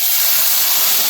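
Strained tomato and tamarind water hits a hot pan while lentil saaru is being made, giving a loud, steady, close hiss that runs through the whole brief moment.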